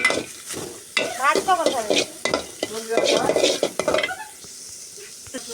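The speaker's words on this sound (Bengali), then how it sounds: "এখন পেঁয়াজ দেব। পেঁয়াজটা ভেজে দেব।" Onions go into a hot pan of oil with reddened chillies and get stirred, the sizzle coming with scraping stirs and pan clinks while a voice talks over it.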